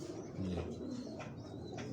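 A pigeon coos on a rooftop in Karachi, a few soft, throaty rolling calls close by, with faint background noise and no talking.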